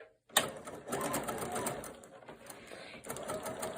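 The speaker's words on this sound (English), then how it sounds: "You're going to line up the point with the red line, and you're just going to stitch right across here." A sewing machine whirs steadily and close as it stitches a diagonal seam across a corner, pausing briefly before running on again.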